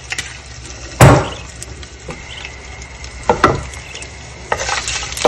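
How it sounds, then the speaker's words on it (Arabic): Lamb fat with a splash of olive oil sits in a pan, giving a soft low sizzle under a few loud clanks and scrapes of a utensil against the pan, close and intermittent. "هذه دهن الخروف، احطه زي ما انتم شايفين، احط معاه شويه زيت زيتون"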